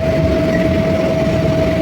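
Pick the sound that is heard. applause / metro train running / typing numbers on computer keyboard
metro train running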